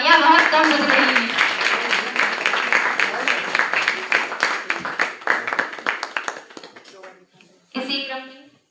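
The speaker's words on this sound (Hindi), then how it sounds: "आप लोगों की तालियां बहुत कम बज रही हैं।" Audience clapping at a school celebration of Atal ji's birthday, a dense burst of hand claps that thins into scattered claps and fades, with a brief voice near the end.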